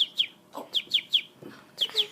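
A rescued baby bird chirps in short, high, sharp peeps, about eight calls in a loose, uneven rhythm, close and fairly quiet with faint background murmurs between them.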